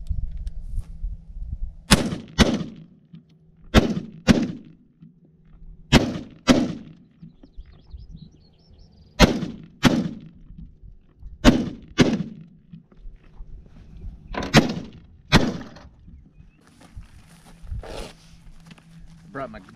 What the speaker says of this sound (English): try to hold the gun as stiff as you can with your left arm and just tap the trigger twice